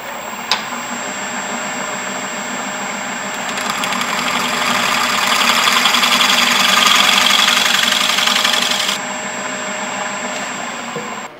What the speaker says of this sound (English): I'm going to take a scraper and just clean up any of my tool marks